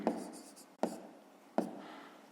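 A pen scratches on paper as a math exercise is written out, three short strokes each starting with a sharp tap and trailing off, quiet and close with no talk.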